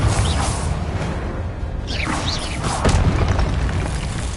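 Confringo spell blasts in Hogwarts Legacy, dense booming bursts and whooshing swishes rolling through a loud, continuous layer of game noise with no pause.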